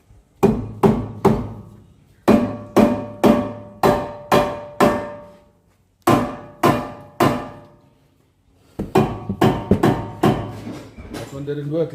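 A hammer strikes a brake disc on a Jeep Renegade 1.4 T, trying to knock it loose: close, loud metallic blows in quick bursts of two to five, with short pauses between groups.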